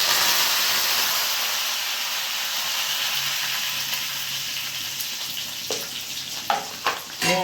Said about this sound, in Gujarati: આ બટેટા વઘારું છું.